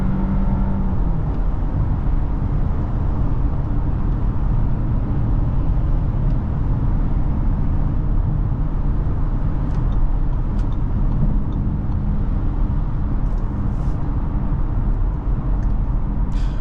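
A 2025 Audi Q7 45 TFSI engine at half throttle accelerating on the road, a steady loud drone and hum mixed with road and tyre noise heard from inside the cabin, no talking.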